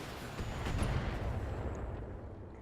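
LRM missiles and an autocannon firing from a mech in BattleTech, a loud, dense rumbling barrage of blasts and booms that swells and holds for a couple of seconds.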